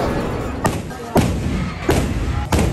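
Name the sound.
cannon firing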